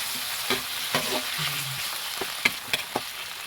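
Squid and tomatoes sautéing in a pan for Filipino adobong pusit, with a steady soft sizzle under a few sharp utensil stirs and taps, close by and without speech.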